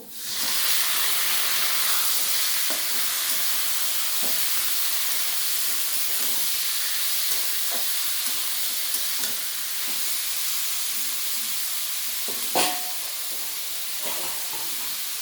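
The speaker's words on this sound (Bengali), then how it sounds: "এবার আমি ম্যারিনেট করা চিকেনটাকে দিয়ে দেবো" Marinated chicken frying in a pan with browned onion and garlic, giving a loud, continuous hiss and sizzle up close, with occasional stirring clicks and no talk.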